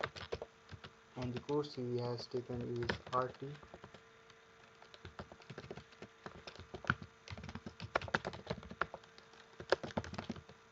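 Computer keyboard keys clatter in quick irregular bursts of close clicks while someone talks over the first few seconds, with the typing continuing more sparsely afterwards.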